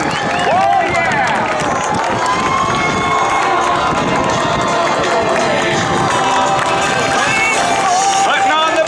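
A large outdoor crowd at a military open house air show cheers and shouts loudly and continuously as skydivers land, with children's shrieks and a voice over the noise.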